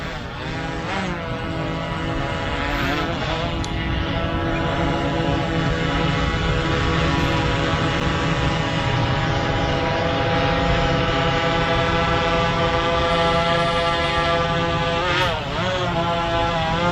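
A DJI Mavic 3 drone flies close by and then comes down to land, its propellers giving off a loud, steady, buzzing whine that shifts in pitch as it moves, with no one speaking.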